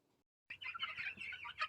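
Young chickens hatched in August cluck and chirp continuously out in a field in a short, busy burst, close and fairly clear.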